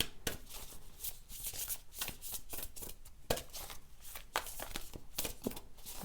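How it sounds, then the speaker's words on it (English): Tarot deck being shuffled by hand, a stiff deck, with a steady run of crisp riffling card slaps and flicks close up, no talking. "this deck is very hard for me to shuffle"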